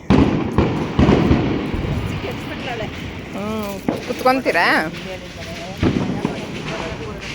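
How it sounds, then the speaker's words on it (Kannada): Diwali firecrackers burst in scattered sharp pops and cracks, some near and some farther off, while people talk over them. "ಈ ಪಟಾಕಿ ಸೌಂಡಲ್ಲಿ ಏನು ಬರಲ್ಲ"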